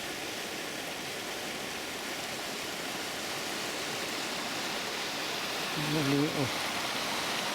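Bedale Beck flows past a river gauge in a constant, full rushing wash, with a voice speaking briefly near the end.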